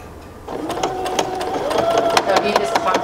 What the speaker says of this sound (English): So at this side, I'm going to do the same reinforcing stitch.